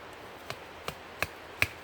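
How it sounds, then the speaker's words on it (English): Rubber mallet driving a landscape lighting ground stake into the ground: four sharp, evenly spaced thuds, close and fairly quiet. "I'm just going to hammer it in with my rubber mallet"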